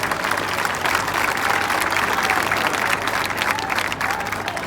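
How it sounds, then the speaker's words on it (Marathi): Steady, dense clapping from a large outdoor crowd at a Dahi Handi festival in 2025, cheering on a Govinda pathak forming an eight-tier human pyramid, sustained at an even level throughout with a faint voice rising over it. "चला जरा टाळ्या वाजूया आपण त्यांना"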